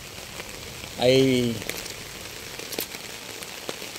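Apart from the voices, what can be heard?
heavy rain falling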